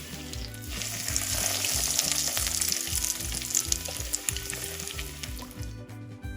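Chicken-stuffed mulaku bajji, chili fritters in batter, fry in hot oil with a steady, close sizzle and crackle, and some stirring or turning noises come through near the end.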